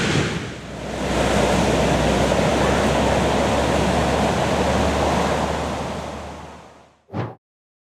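Big ocean waves during a paddleboarding lesson, a broad roar of surf that swells up after a moment, holds steady, fades, then ends with one brief rushing burst.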